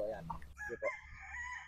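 Rooster crowing at a game farm: a short clucking lead-in, then one long drawn-out crow, fairly close and clear.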